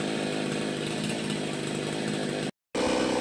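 Stihl chainsaw engine idling while warming up, a close, loud, steady two-stroke putter with a fast, even rhythm, briefly cut off near the end before resuming.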